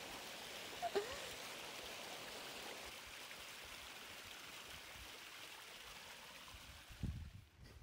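A cold stream flowing at Nesjavellir in Iceland, a steady broadband rush of running water heard close and continuous, with a brief knock near the start and a short louder splash-like burst toward the end.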